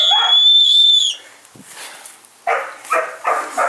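Owl giving a sustained whistling hoot that breaks off, followed after a short pause by several brief, sharp calls in quick succession, close and fairly loud.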